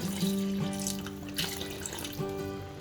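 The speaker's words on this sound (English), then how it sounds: "I'm gonna add another cup of water" Water runs steadily from a tap into a cooking pot, a continuous close splashing flow with a faint rising pitch as it fills.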